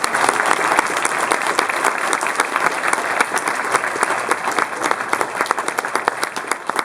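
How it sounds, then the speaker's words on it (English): An audience at an awards event for citizen diplomats breaks into sustained, loud applause, many hands clapping densely and evenly throughout without pause. "Another big round of applause for Tom."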